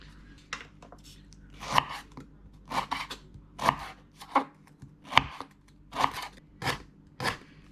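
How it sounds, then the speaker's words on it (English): A knife slices through a lime on a cutting board in a kitchen, producing a series of crisp, close chopping knocks at an uneven, steady pace with no one speaking. "So just cut this in half for now."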